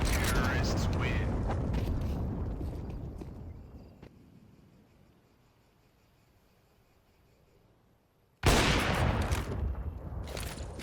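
Gunfire in a Counter-Strike 2 competitive league match, with shots and clatter under an excited caster's commentary, then a lull before a sudden loud burst of firing near the end.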